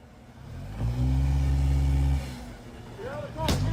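A car engine revs and accelerates hard during a vehicle ramming attack on agents in San Antonio, Texas, loud and close, with a rising roar and the squeal of another sound near the end, under shouting voices.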